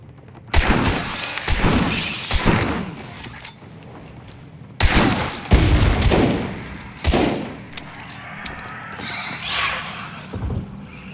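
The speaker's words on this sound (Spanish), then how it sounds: "Voy a meter al barril este rojo que yo creo que explota" Gunshots fired at a red explosive barrel in the game Hunt: Showdown, several loud sharp bursts in clusters with booming tails, spaced across the stretch with quieter pauses between.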